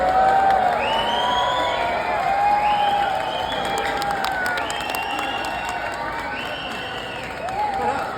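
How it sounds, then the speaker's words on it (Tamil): Audience at a FeTNA Tamil convention hall clapping and cheering during a guest's introduction, a loud crowd roar with whoops and rising shouts layered over continuous applause. "பயங்கர கரகோஷமா இருக்குது"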